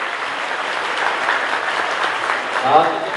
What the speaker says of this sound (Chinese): 各位掌声鼓励